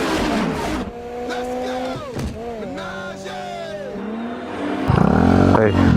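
A Vespa Primavera 150 scooter fitted with an Aracer controller accelerates, its engine note rising and falling through several revs in the foreground, with a louder surge near the end.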